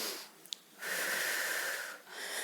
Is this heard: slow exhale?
yes